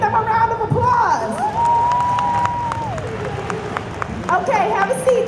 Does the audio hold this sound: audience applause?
yes